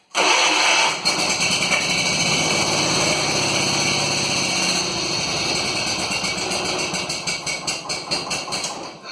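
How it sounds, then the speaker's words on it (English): A small single-cylinder Kohler flathead engine on a Cub Cadet cranks from cold and catches, then runs with a steady, loud chugging beat that turns uneven and sputtery near the end. "Let's see if we can get a cold start on this one."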